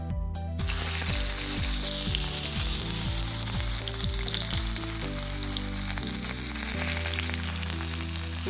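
Chopped onion hitting hot oil in a pan with red chilli and spices, a loud, steady sizzle that bursts in and holds close throughout, with faint stirring.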